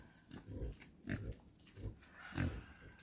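Pigs on a farm give four short, low grunts at an even pace, close and fairly quiet, with no talking.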